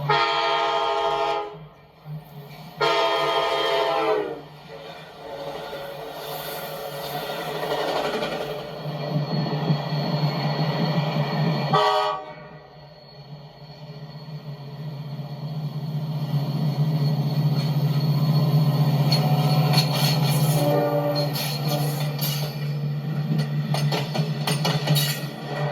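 An LIRR DE30AC diesel locomotive passes a crossing in Riverhead, its horn sounding in several long blasts over a steady, rising engine drone that builds as it draws near.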